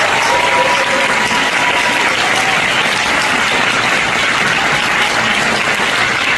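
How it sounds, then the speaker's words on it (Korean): A large audience at a youth leaders' academy launch ceremony in Korea breaks into loud, sustained applause, a dense steady wash of clapping that fills the whole stretch without letup. "트럼프 대통령과 미국과 주한미군께 감사한 뜻으로 박수 한번 부탁드리겠습니다"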